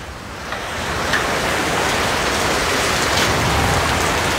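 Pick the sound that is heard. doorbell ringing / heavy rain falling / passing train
heavy rain falling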